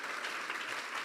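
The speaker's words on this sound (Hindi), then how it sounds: "बजा दे एक बार यीशु के जलाल के लिए जोरदार तालियां" Applause from a church congregation during a sermon, a brief, faint, even wash of clapping heard from a distance with no voices.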